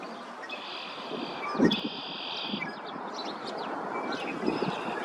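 Red-winged blackbirds call at a pond in Edmonton, Alberta, in springtime: repeated buzzy, trilling calls over a steady wash of outdoor background noise, with no talking.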